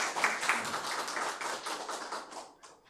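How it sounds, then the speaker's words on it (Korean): A church congregation claps steadily in welcome during a Korean Sunday worship service, a dense even patter of many hands that fades out toward the end. "한번 박수로 환영해 주시기 바랍니다"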